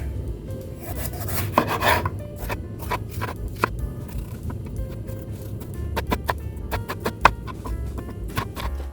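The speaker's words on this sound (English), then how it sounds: "we'll just chop up 1 red bell pepper" A knife chops a red bell pepper on a cutting board in irregular crisp taps, close up, over a low steady background hum.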